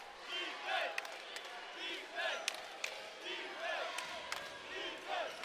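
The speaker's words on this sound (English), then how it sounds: "This crowd so desperately wants to get involved." A college basketball arena crowd during the Houston vs Tulane NCAA game murmurs and cheers at a distance, with sneaker squeaks and scattered bangs under a commentator's voice.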